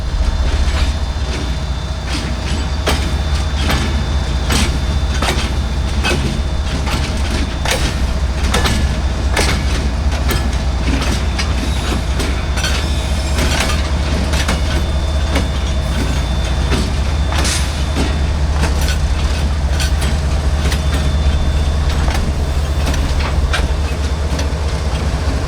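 CSX GE AC44 locomotive leading a reverse move through a Florida East Coast Railway yard, a loud, steady diesel rumble with a constant low drone, repeated sharp clicks and clanks of wheels over rail joints, close and sustained with no talk.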